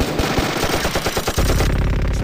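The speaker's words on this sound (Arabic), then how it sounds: "هذا صوت السبلة انفجار" Loud, harsh bursts of rapid crackling pops in a staccato rattle, like gunfire, presented as the explosion of a failing AUX split air conditioner unit, ending in a sustained buzzing roar.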